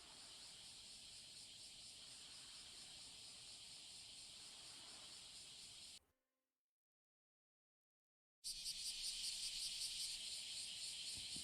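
Cicadas from the anime Summer Time Render drone in a loud, steady, shrill buzz. The sound cuts to silence for about two seconds partway through, then resumes just as strongly.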